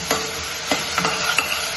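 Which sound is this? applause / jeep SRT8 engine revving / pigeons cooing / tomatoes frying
tomatoes frying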